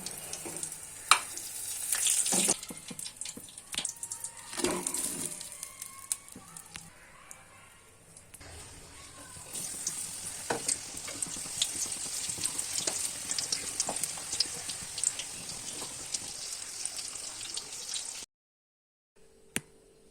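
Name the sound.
chili pakoras frying in oil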